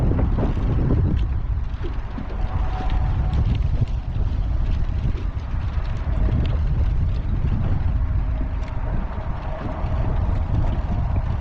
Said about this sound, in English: As the wind was kicking up, the air temp was really plummeting.